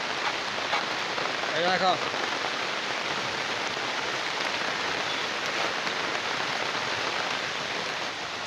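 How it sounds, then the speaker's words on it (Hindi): Heavy rain pours down in a dense, constant hiss, with a brief spoken word early on. "देखिए बहुत बारिश आ रहा है"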